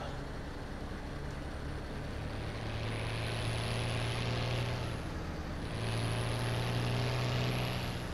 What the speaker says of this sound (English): This tractor's incredibly noisy.